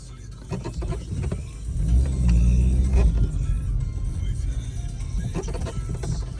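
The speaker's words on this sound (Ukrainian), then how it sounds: "Прямий репортаж з епіцентру затору у столиці України" Car traffic in a Kyiv jam: a steady, close rumble of idling and slowly moving engines with a swell of mid-range engine noise, under scattered bits of background sound.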